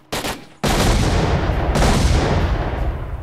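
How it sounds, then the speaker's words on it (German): Explosion and gunfire in the S.T.A.L.K.E.R. Lost Alpha video game: a short sharp blast, a brief lull, then a loud sustained roar of detonation and rapid firing that slowly fades. "Das war eine schöne Explosion."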